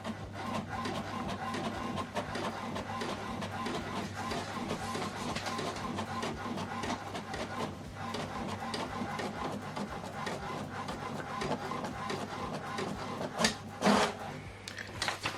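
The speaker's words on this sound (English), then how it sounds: "Now this document is printing." An HP Deskjet 4200e inkjet printer prints a document, giving a quiet, continuous mechanical whirring and rubbing with a brief louder clatter near the end, and no one speaking.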